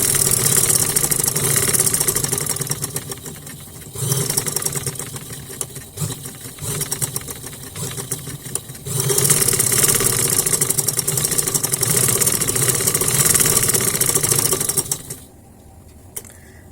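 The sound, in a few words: sewing machine stitching velvet shirt neckline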